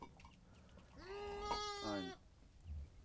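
A Bandırma Merino sheep gives a single clear, harmonic bleat of about a second, fairly close against quiet farm background.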